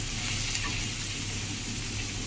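Steady, loud sizzling of garlic, chili, chopped onion and salt frying in a hot pan, with faint scraping as it is stirred.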